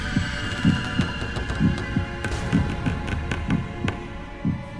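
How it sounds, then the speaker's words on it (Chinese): A heartbeat thumps in a dark, tomb-themed escape room: low, muffled double beats repeat at a steady pace over a faint hum, with no voices. "你听到我心跳了吗？"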